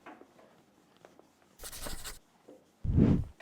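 Pen scratching on paper in short strokes and taps, with two louder scraping bursts, faint and close in a quiet room.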